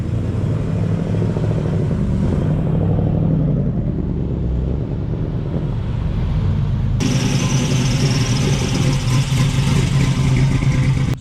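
A Ford Mustang at a car film day in Kentucky, its engine running loud and steady with a sharper surge partway through, no talk over it.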